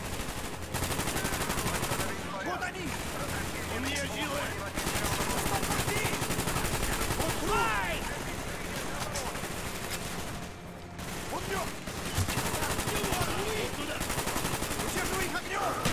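AK-47 fire in the Call of Duty: Black Ops campaign, with rapid automatic bursts and scattered shots repeating over steady game battle noise, broken by a few short pauses.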